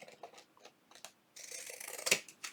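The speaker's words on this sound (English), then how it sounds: "right here just to get it with pinking shears, and so it's not so crooked." Pinking shears snip through fabric in a short run of crisp cutting sounds, close and fairly loud after quieter handling noises, with no one talking.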